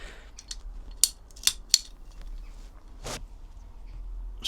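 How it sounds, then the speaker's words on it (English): A rubber fuel hose on a motorcycle is trimmed to length with a cutter. A few sharp, close snips stand out against quiet background handling. "I'll just play with the length of that hose, just cut it down a bit."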